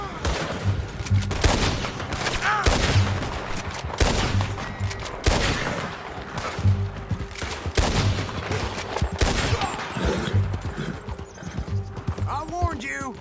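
Gunfire rings out in the Western video game Red Dead Redemption 2 as sharp, loud reports over steady horse hoofbeats and a whinny, with characters talking throughout.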